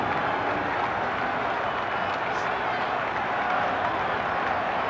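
Stadium crowd at a 1976 World Series game between the Cincinnati Reds and New York Yankees cheers and applauds in a steady, broad roar, a distant wash of noise under a voice talking.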